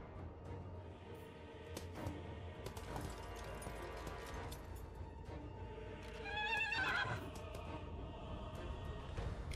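A horse gives one short whinny partway through, set against a low, busy Total War: Warhammer 3 game soundscape of rumbles and thuds.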